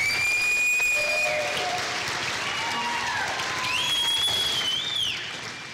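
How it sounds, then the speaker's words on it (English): An audience at an elementary school Christmas concert claps for the school band, a dense, sustained round of applause that fades toward the end, with faint whistle-like tones sliding above it. "Could we have one more round of applause for the band?"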